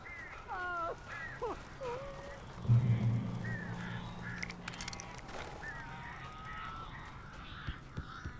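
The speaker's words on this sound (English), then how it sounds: "These birds are weird." Birds caw and squawk with harsh, uneven calls in Alan Wake, several cries early on over a dark ambient bed, with a voice talking faintly underneath and scattered later calls.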